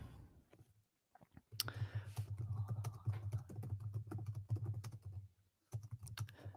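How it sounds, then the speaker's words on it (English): Rapid keystrokes on a computer keyboard, dense irregular clicking in bursts with a brief pause before resuming, close and moderately loud with no talking. "I can hear you pounding the keys like a true journalist."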